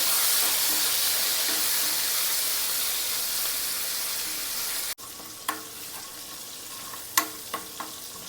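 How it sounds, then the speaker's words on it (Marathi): Ginger, garlic and green chili paste fries in hot oil with a loud, steady sizzle. The hiss then drops sharply to a softer crackle broken by a few light clinks of a utensil against the pan. "अद्रक लसूण आणि हिरवी मिरची ही पेस्ट आहे ही आता हे आपण जरा आता चांगलं भाजून घेऊया तेलामध्ये"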